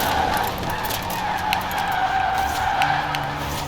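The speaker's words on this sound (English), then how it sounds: "Keep the drift going." A 2018 Jaguar I-Pace drifts in Forza Horizon 4, its tires skidding and squealing continuously over a steady hum of motor and road noise, loud and close throughout.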